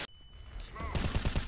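Bursts of gunfire from a shooting video game in a bomb-planting match come through close and loud, with a rapid rattling volley in the final half second and a faint voice underneath.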